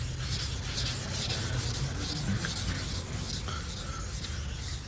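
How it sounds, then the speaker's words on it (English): Hand sanding a car body panel on a Subaru BRZ with a sanding block: continuous, close, raspy scrubbing in steady back-and-forth strokes, with no talking. "Obviously I'm using a sanding block to make sure it's straight as possible."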